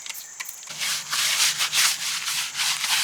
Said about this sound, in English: Just give everything a good rub down.